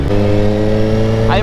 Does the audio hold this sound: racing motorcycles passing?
yes